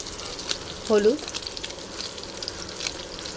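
Vegetables frying in a pan, a soft steady sizzle close by with occasional stirring clicks and a brief tonal sound near the start.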